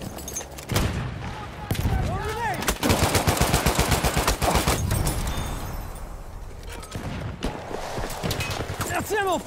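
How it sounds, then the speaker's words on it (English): Rapid machine-gun fire rattles in Battlefield 1. Loud bursts come in quick, tightly spaced volleys between scattered single shots, with shouting voices mixed into the battle noise. "Machine gun!"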